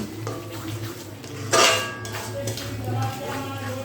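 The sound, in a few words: stirring yogurt into spice paste in a pan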